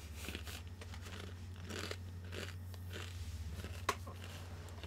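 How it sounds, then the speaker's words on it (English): Crunchy Fritos corn chips chewed close to a microphone, repeated crisp crunches and bites over a steady low hum, with one sharper crack near the end. "chew closer to the mic so I can hear you. Mmm, Fritos!"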